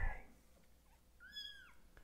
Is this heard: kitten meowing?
yes